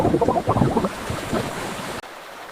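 Rushing, freezing river water churns and surges loudly in winter at Yellowstone, a dense broadband roar that splashes early on, then settles into a steady wash before cutting off abruptly.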